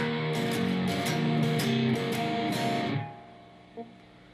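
Electric guitar runs through a blues shuffle riff at full tempo, with quick rhythmic picked attacks for about three seconds, then the notes decay, followed by a brief soft thump.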